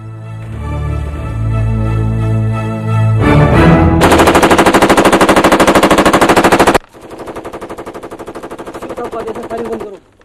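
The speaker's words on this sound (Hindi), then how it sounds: "फायरिंग बंद करो।" Machine gun fire in a battle scene involving Central Reserve Police Force soldiers, with loud, rapid sustained bursts of shots, a brief break, then a further long, slightly quieter burst.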